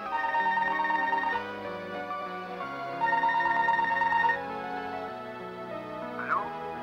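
An electronic telephone ring, a melodic ringtone that repeats as two loud bursts of steady tones over a background of music, with a brief rising chirp near the end.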